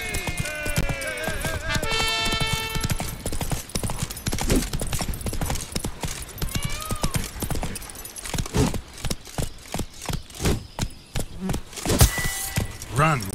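Roach, Geralt's horse in The Witcher 3, gallops with fast, steady clip-clop hoofbeats over a busy game soundscape of music and ambient effects, growing more distinct and rhythmic toward the end.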